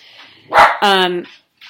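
Dogs bark in reaction to nearby thunder, a brief noisy burst followed by a sustained, harmonic bark-howl lasting about half a second, with a faint yip at the end.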